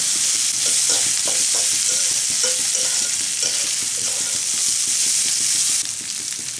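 Red lentils fry with onion and garlic in a pan, a continuous close sizzle broken by repeated scraping stirs throughout, with no one talking.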